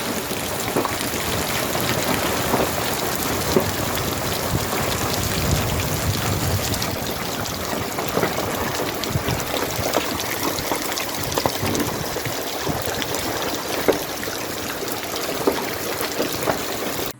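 Heavy unseasonal rain pours down steadily in Nandil, Maharashtra, with scattered sharp taps of hail striking hard surfaces, loud and continuous throughout.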